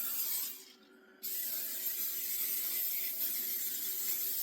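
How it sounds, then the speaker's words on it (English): Cooking spray misted into two baking dishes, one a standard 9 by 13, for an apple crisp: one short close hiss, then a longer continuous spray hiss with no talk. "And I'm going to spray both of them down."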